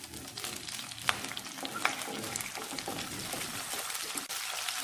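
Bay leaf, cloves, green chilli and curry leaves fry in hot oil with a steady crackling sizzle. A couple of sharper pops break through near the start.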